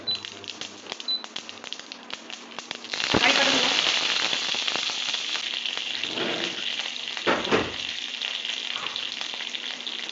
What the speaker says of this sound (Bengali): এক চিমটে হিং একটা গোটা কাঁচা লঙ্কা ভালো করে ফোড়ন